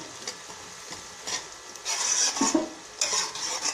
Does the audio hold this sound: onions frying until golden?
yes